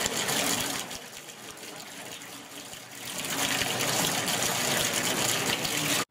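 Running water gushing from a tap as a patient washes the hands and fistula arm. The splashing stream is steady and loud, dips briefly in the middle, then swells again, with no talking.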